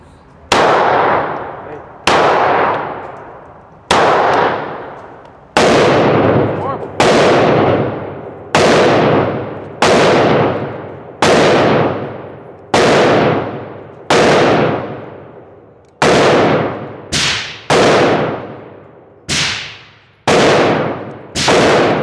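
Glock 25 Gen 3 pistol fired at an outdoor range, about fourteen loud, sharp shots spaced roughly a second or two apart, each ringing off briefly before the next.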